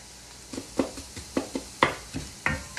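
Shrimp and onions fry and brown in a pan, with soft sizzling under a string of sharp stirring scrapes and taps, close and moderately loud.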